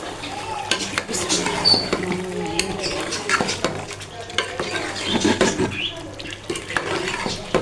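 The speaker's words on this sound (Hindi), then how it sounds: "चलिए अब हम ये सारा कुछ कर लेते हैं मिक्स" Spoon scraping and stirring chicken korma spices with coriander powder in a cooking pot, steady clinking and scraping close up with a light sizzle underneath.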